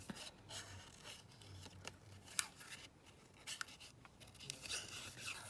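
Scissors snipping around a paper pocket shape for a junk journal craft, a string of close, soft crisp cuts and rustles at an uneven pace, fairly quiet throughout.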